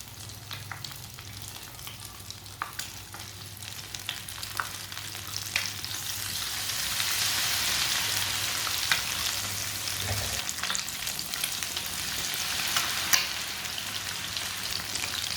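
Club sandwich pieces fry in oil with a soft, steady crackle and sizzle close by, a low hum beneath and occasional brighter pops, with no talking.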